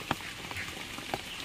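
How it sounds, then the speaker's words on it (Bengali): Light monsoon drizzle falls in a steady, soft hiss, with a few scattered droplet taps standing out; faint and even throughout, with no talking. "বৃষ্টি হচ্ছে ঝিরঝিরিয়ে"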